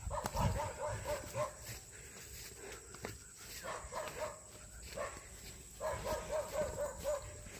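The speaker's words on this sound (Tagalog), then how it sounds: "may mga asong iba pala dyan." Dogs barking at a distance in a quiet rural setting, in a few faint, scattered bursts mixed with footsteps and low background noise.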